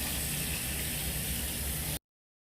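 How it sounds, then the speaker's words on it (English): Water pours steadily into a pot of eggs for a seafood boil with a full, rushing gush for about two seconds, then stops abruptly into silence. "I'm going to actually add the water to this."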